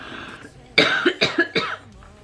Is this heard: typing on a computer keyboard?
no